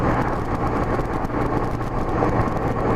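A Honda GL1200 motorcycle with a rebuilt carburetor kit pulls in high gear from about 45 to over 70 mph, giving a steady, dense engine drone with a low hum that holds even throughout, with no voices.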